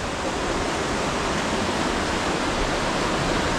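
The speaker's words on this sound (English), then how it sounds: "There's a cold running river right there." Cold river running through Ecuador's Amazon rainforest, a steady broadband rush of flowing water, close and even throughout with no voices.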